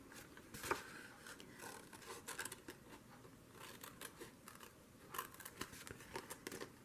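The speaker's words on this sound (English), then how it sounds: "Now I'm just going to cut this out" Scissors cutting out paper for a junk journal, a run of soft snips and crisp paper rustles at close range, fairly quiet, with no talking.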